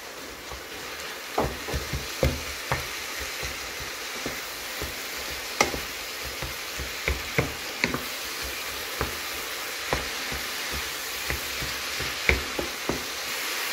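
Spiced meat mixture with pepper, garlic powder and paprika cooking in a pan, a constant close sizzle with repeated clicks and taps from a stirring utensil, no voices.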